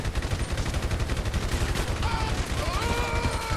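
Rapid gunfire in the GTA V video game, a steady stream of loud, closely spaced shots over a continuous busy background, with tonal game sounds joining in partway through.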